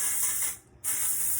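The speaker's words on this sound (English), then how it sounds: "you spray it on your scalp and then you're supposed to like run your fingers through it" Hair product sprayed from a pump bottle onto the scalp: a steady close hiss broken by one short pause, then spraying again, with no talk.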